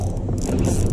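An Okuma 5000 spinning reel on a 9.6 custom carp rod gives out drag as a hooked common carp runs mid-river, a fast, continuous ratcheting whir heard close and loud.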